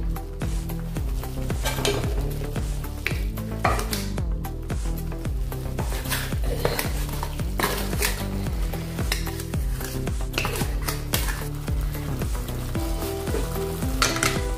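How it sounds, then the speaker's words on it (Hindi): Tomato masala sizzles and fries steadily in a pan as dal goes in, with close, continuous crackling and spoon scraping against the metal throughout, no voices. "अभी अपनी दाल डालेंगे इसमें"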